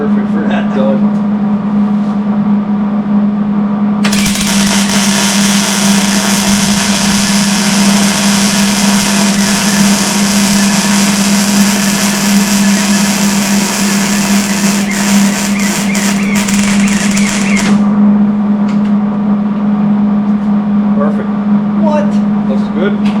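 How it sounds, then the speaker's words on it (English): A small 110-volt wire-feed welder laying a bead on a metal shop sign, a loud steady crackling buzz running for about fourteen seconds over a constant low hum of shop noise. "Not bad for a little 110 welder."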